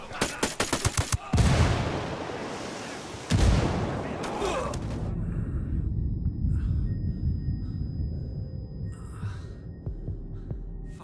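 A frag grenade blast in Ghost Recon Wildlands, preceded by a quick string of gunshots, then a loud booming explosion with a long rumbling tail, followed by a second heavy blast and fading debris rumble.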